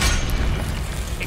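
A Confringo fire spell explodes in the Hogwarts Legacy game, a short booming blast with a sustained low rumble that fills the whole moment at steady loudness.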